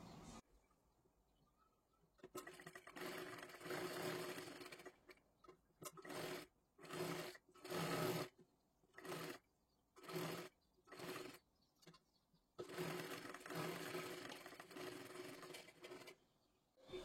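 A sewing machine stitches a kathpadar saree blouse in a series of short, close bursts of stitching that start and stop repeatedly, with a few longer runs and quiet pauses between them and no voices.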